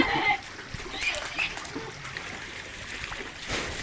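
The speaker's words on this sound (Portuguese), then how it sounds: "Essa água que tá minando aqui tá indo tudo pro esgoto." Spring water from a natural source runs in a steady, soft trickle and splash outdoors, with faint birdsong and a few light knocks over the flow.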